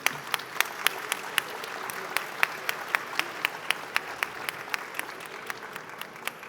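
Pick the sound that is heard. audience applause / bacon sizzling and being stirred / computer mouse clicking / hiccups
audience applause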